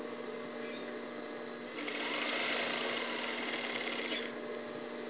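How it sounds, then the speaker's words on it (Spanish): A sewing machine stitches a denim top in a short burst of fast, steady whirring lasting about two seconds, quiet room tone before and after. "Y vas a embolsar hasta donde más puedas meterle la máquina."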